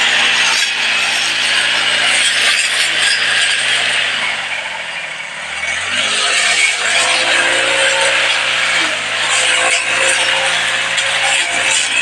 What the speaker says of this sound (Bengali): তোমাদের কাদের কাদের এরকম মেশিন আছে, তো ঘাস কাটতে জঙ্গল কাটতে সুবিধা হবে